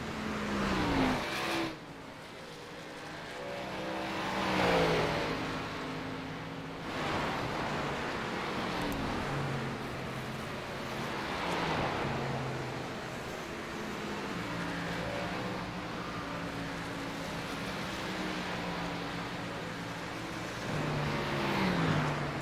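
Race cars lapping the track at Phoenix during a league cup race, engines droning and rising and falling as cars pass repeatedly, with a continuous broad roar throughout and no voices.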